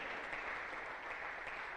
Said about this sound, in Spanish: ¿Le das una ofrenda de palmas al Rey de Reyes?